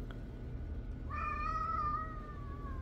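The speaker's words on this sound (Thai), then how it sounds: "เขาเพิ่งเจอบิ๊กแคทครั้งแรกค่ะบิ๊กแคทนั่งอยู่ที่หน้าต่าง" A cat at a window lets out one drawn-out, wavering meow, close and clear over a steady hum of background noise.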